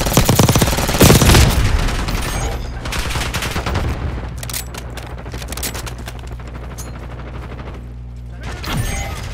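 Dense automatic gunfire and rapid bursts in Call of Duty Black Ops 6 online multiplayer, loud and continuous with layered shots and booms, faint game voice lines underneath.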